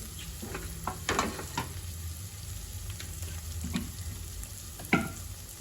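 Ingredients for mutton liver pulao fry gently in a pan over a low flame, giving a soft, steady sizzle broken by several quiet stirring scrapes and clinks.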